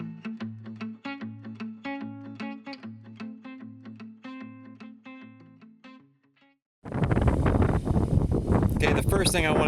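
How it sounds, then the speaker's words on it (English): Wind blows outdoors at a beekeeping site, bursting in as a loud, rough buffeting roar against the microphone in the last few seconds after a stretch of plucked music. "the first thing I want to do is apologize for the wind"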